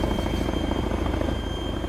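A helicopter in a multiplayer video game, its steady, close rotor thump and engine drone running continuously at an even level with no voices.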